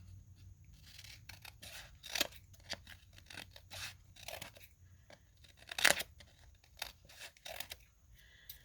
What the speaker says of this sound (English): Let me go here and trim this edge.